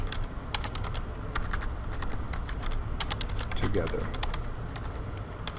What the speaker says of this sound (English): To go to the next line, I'm just pressing enter on my keyboard.